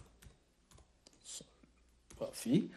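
Computer keyboard typing in the Visual Studio code editor: scattered, sharp key clicks with brief pauses, growing louder and denser near the end.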